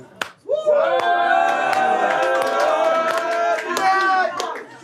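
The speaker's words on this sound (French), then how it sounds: "les gens m'applaudissent" A crowd cheers and shouts over sharp rhythmic clapping at a French rap battle, sustained group whoops and claps for several seconds after a brief lull.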